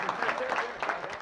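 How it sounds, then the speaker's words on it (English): A brief stretch of audience applause at a hosted report session, with soft, fairly quiet clapping that is steady and even throughout. "Let's give Bob McDermott a round of applause"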